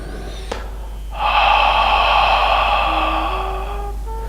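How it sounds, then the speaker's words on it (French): Ujjayi yoga breathing with a sharp nasal inhale, then a long, steady hissing exhale through a constricted throat, close and loud, holding for about three seconds before fading slightly. "Et expirez en imaginant que vous soufflez de l'air chaud."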